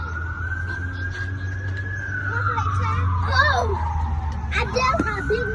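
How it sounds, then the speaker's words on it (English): A wailing emergency siren rises and falls steadily, fairly loud and close, with traffic rumble underneath and brief children's voices in the background. "Sirens."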